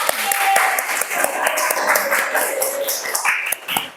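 Classroom applause for a student presentation group, a dense patter of many hands clapping steadily throughout with voices and chatter mixed in.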